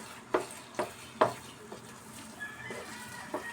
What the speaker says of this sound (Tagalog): Haluin po natin ng haluin ng paganito, mga mamsi